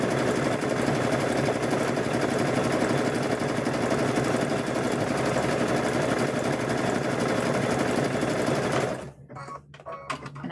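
A sewing machine stitches a patchwork gnome quilt in one long, loud, steady whirring run at close range, then stops abruptly and leaves a short quiet with a few small clicks and handling sounds.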